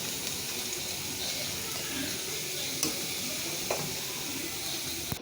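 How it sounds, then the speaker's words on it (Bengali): Panch phoron spices sizzle softly in hot oil as a tempering for pumpkin khichuri, a quiet, even hiss with a couple of faint clicks of stirring. "এই তো আমি বাগারটা দিয়ে দিলাম একটু নাড়াচাড়া দিয়ে দেবো"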